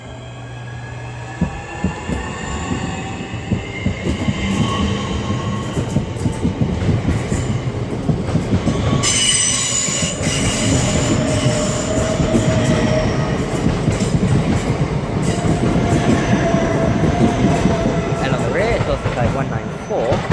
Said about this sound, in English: the 1625 Southeastern service from Dartford to London Cannon Street